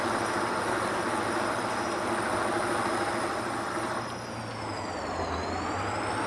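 Articulated farm tractor working a field, its engine giving a loud, steady diesel roar up close with a high whine, dipping briefly near the end, no speech.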